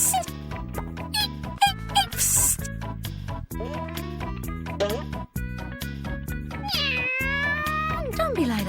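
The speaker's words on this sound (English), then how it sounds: "Oh, hi, Stripes. Meow" A cartoon cat meows repeatedly in squeaky, high-pitched bursts over a steady musical score, close and prominent, with short squeaks between the calls.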